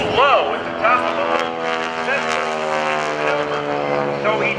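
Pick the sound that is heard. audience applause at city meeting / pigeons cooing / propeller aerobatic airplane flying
propeller aerobatic airplane flying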